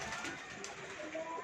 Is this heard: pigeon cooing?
yes